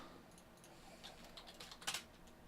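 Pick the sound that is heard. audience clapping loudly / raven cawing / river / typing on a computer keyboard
typing on a computer keyboard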